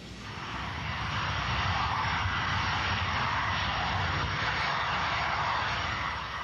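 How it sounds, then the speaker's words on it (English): A SEPECAT Jaguar jet rolls down the long Boscombe Down runway for takeoff, its engine a steady, broad roar that swells in over the first second and then holds evenly. "Their Jaguar, XX-145, begins to roll along the long Boscombe Down runway for takeoff on the low-level exercise."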